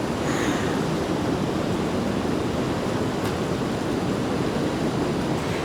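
Water rushes continuously at the source of the Buna river near Mostar in Bosnia and Herzegovina, a broad, steady roar with no pauses or voices.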